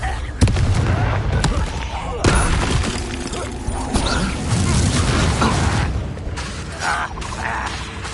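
Confringo fire spell blasts in the video game Hogwarts Legacy, a busy run of loud booms, shattering crashes and impacts in a chaotic fight, with voices shouting amid the noise.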